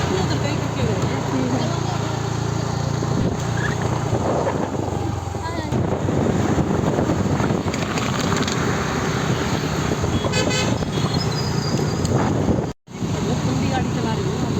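A car is driven slowly, giving a steady rumble of road and wind noise throughout, with people talking over it and one short dropout near the end.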